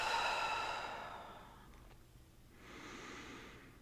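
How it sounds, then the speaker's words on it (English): A slow, deep breath is drawn in and let out, starting as a soft, airy exhale that fades to quiet before a gentler breath rises again, close and unhurried, with no talking. "take 3 nice deep breaths with me"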